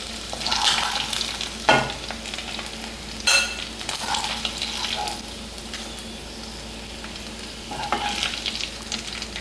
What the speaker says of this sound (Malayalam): ചിക്കൻ ഫ്രൈ ചെയ്തെടുത്ത് അതേ എണ്ണയിൽ തന്നെ ഒരു 4 സ്പൂണോളം വെളുത്തുള്ളി ചെറുതായിട്ട് അരിഞ്ഞത്, 1-2 പച്ചമുളക് ചെറുതായിട്ട് അരിഞ്ഞത്